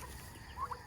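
A turkey gives a faint, brief pair of gobbling calls at a home livestock feeding area in the Philippines, distant and low in level against a steady background hum.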